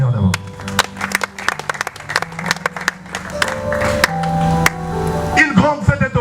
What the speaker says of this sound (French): Quelqu'un peut m'aider à acclamer les seigneurs d'abord.